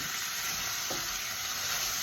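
Vegetables, sausage and chilli sizzle in a pan for pasta, a steady crackling hiss with a brief scrape of stirring midway, close and alone.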